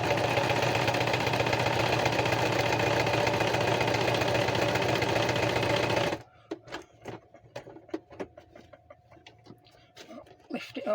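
A sewing machine stitches in a loud, steady mechanical whir for several seconds, then stops abruptly, leaving quiet clicks and handling sounds.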